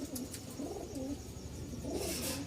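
A pair of Lal Sundori pigeons cooing softly, repeated low rolling coos rising and falling at close range, with faint background noise.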